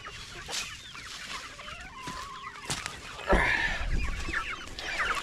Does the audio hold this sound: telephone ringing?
no